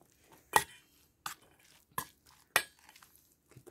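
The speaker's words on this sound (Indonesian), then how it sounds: "Kita aduk-aduk dulu ya" A metal utensil stirs noodles in a pan, striking it in four sharp, close clanks spaced about a second apart, with quiet scraping between them.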